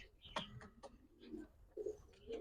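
A pigeon at a market stall gives soft, low coos in short bursts, close by and fairly quiet, with people talking nearby.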